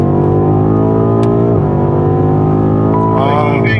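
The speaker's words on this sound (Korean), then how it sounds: "자, 이제 풀가속입니다." A 2020 BMW M8 Gran Coupe Competition at full throttle on a driving-centre track, its engine droning loud and rising in pitch from inside the cabin, with a brief dip at an upshift before climbing again.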